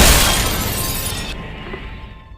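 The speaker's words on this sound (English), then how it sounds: "she hears the sound of the nursery window shattering" A nursery window's glass shatters in one loud, sharp burst, the crash fading quickly into a brief tail of settling debris with no voices.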